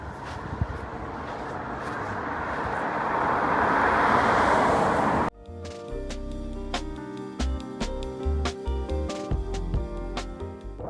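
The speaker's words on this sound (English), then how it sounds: "Just wait for this car to go past." A car approaches and passes close by, its rushing noise swelling to a peak before cutting off abruptly to quieter background sounds.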